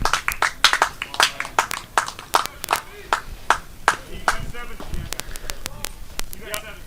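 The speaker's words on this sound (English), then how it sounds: "Claps all around me." Baseball fans in the stands at a Solano Mudcats vs Lincoln Potters game clap in scattered, uneven bursts. The sharp claps come close by and far off, with a little talk between them.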